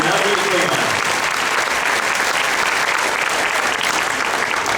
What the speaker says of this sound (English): One more round of applause for our Klingon,